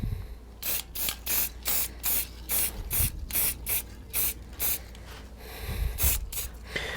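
Short bursts of spray paint hiss onto a sign stencil clamped on blocks above a table, roughly a dozen evenly spaced puffs, close and fairly loud, with quiet handling noise between them.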